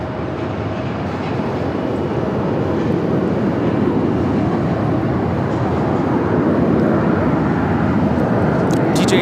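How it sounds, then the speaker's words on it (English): Southwest Airlines Boeing 737-800 arriving at Phoenix, a loud, steady jet roar that builds slightly and sustains without a break. "Southwest Airlines 3800 coming in from Seattle"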